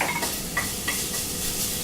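Garlic sizzles steadily in hot oil in a pan with a soft, even hiss, broken by a few light clinks of a bamboo spatula against the pan.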